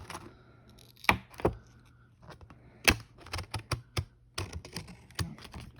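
Scissors snip through fabric over stitching in a beginner sewing session, a series of sharp, separate clicks and cuts at irregular intervals, close and fairly quiet.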